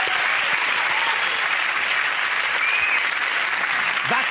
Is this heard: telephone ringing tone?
no